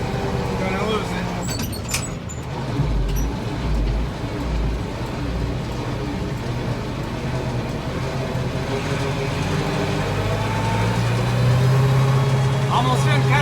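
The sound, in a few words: loaded farm vehicle engine struggling up a hill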